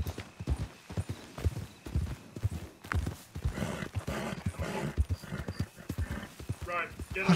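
Horse hooves clip-clop steadily in a WildRP role-play game set in the Wild West, a rhythmic walking gait close by, with a brief neigh and people talking over it.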